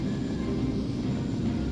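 A spaceship in the Colony Wars game flies along with a steady low engine rumble and airy whoosh, continuous and close, with no speech over it.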